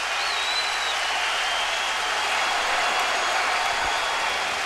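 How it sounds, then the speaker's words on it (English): Yankee Stadium crowd cheering during a 2007 playoff game against Cleveland: steady, dense roar of a large stadium crowd, loud and continuous throughout with no break. "Yankee crowd on its feet"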